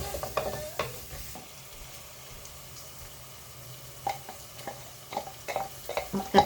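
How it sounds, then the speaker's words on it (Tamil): Ground tomato sautéing with onions and garlic paste in a pan for an egg puff filling: a low, quiet sizzle with intermittent scraping stirs and small clinks, nearby but faint. "தக்காளி அரைச்சி ஊற்றிருக்கிறேன் அதுவும் நல்லா வதங்கட்டும்"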